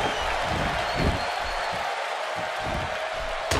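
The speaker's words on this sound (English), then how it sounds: "Would you listen to this crowd?" A roaring arena crowd in a WWE wrestling video game cheers and applauds steadily throughout, a dense wash of noise with brief swells.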